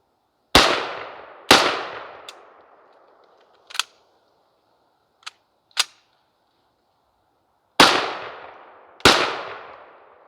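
Sharp gunshots from a Chinese Type 56 SKS rifle in 7.62x39 in a zombies shooter game: four loud, reverberant shots in two spaced pairs, with a few quieter clicks and mechanical snaps between them.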